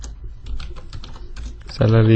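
A computer keyboard clatters with quick, close keystrokes in an irregular run, and a loud tonal sound cuts in near the end.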